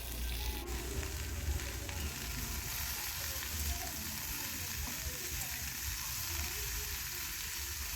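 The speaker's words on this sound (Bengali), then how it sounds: "কড়াইতে তেল দিয়ে আমি সমস্ত সবজি একসঙ্গেই তুলে দিচ্ছি।" Mixed vegetables fry together in oil in a wok for a light five-vegetable curry, giving a steady, fairly faint sizzle that runs unbroken throughout.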